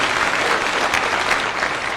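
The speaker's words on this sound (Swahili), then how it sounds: "Mpigeni speaker wetu makofi tena" An audience at a service event in Laikipia claps steadily for a speaker, a dense, even wash of applause throughout with no talking.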